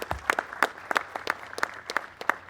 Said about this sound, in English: if you would join me in a round of applause for our friends at GameAbove.